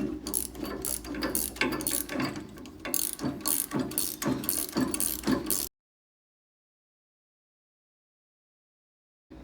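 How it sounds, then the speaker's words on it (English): A wrench tightening the nut on a Bilstein 5100 shock assembly, giving rapid ratcheting clicks in quick bursts for about six seconds before silence. "Okay, just tighten your nut down until it's tight."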